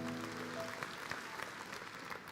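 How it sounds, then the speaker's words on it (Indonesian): A church congregation claps together, a dense, steady round of applause filling the room and holding at an even level throughout. "Kasih tepuk tangan untuk Tuhan Yesus."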